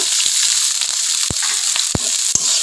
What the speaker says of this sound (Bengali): এখন আমি ভালো করে নাড়াচাড়া করে এভাবে রান্না করে দেখুন বন্ধুরা ভাত আর ডিম দিয়ে আমি এভাবে ফ্রাই করে নিয়েছি